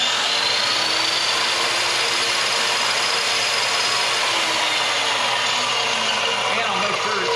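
An Evolution metal chop saw runs with its blade spinning freely, giving a loud, steady whirring drone with a faint high whine that holds unbroken throughout.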